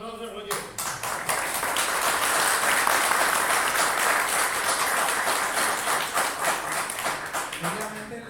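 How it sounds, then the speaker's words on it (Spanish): Audience applause at a Spanish-language project presentation and debate, sustained clapping from a crowd that swells quickly and holds steady before tapering off, with some voices underneath. "Un aplauso, Roger."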